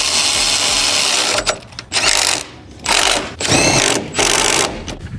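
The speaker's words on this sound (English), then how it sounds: "Tighten the top strut bolts." Bursts of a power tool or impact driver run down the top strut bolts during a lowering-spring install on an Audi B9 S4/S5, several loud whirring pulses separated by short pauses, no talk.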